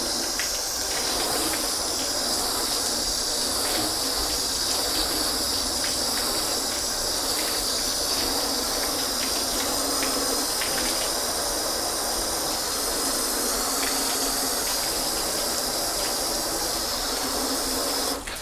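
A garden hose rinses water across car paint test panels coated with sealants such as 303, Turtle Wax, Ethos and Bowden's, giving a steady, loud, unbroken hiss of spray that runs on alone from start to finish.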